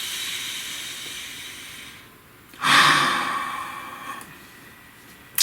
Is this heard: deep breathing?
yes